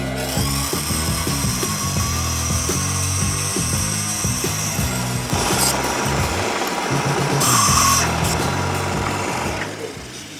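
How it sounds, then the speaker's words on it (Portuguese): A band saw cutting through wood for a bike stand, a steady loud mechanical whine with the blade's grinding rasp rising as it bites into the timber, in a home garage. "eu vou usar a minha serra fita, ou serra de fita, como queira."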